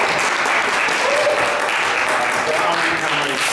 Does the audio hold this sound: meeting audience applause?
yes